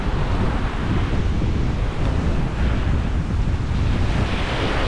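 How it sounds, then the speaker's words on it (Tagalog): Strong ocean surf breaks and rushes continuously near an island shore, loud and close, with heavy wind buffeting the microphone throughout. "Kaso malakas naman ang alon."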